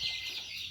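Chickens on a poultry farm raising broilers, a steady busy clucking of the flock carrying on through the brief moment, fairly close and moderately loud, with no talk.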